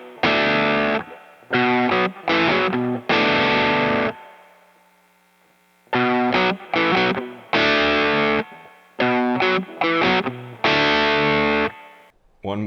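A distorted electric guitar hammers out the John Henry riff in short, punchy bursts of chords separated by silent gaps, loud and up close, with a faint amp hum between phrases.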